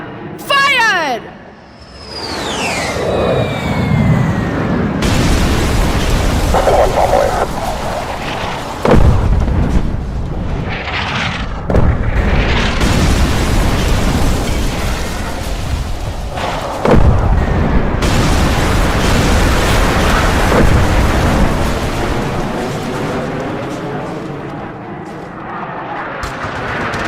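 Heavy military explosions from artillery fire on an enemy camp target, a series of deep booms and bursts with rumbling aftermath, loud and rolling over about half a minute, with voices talking over them.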